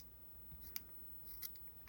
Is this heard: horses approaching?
no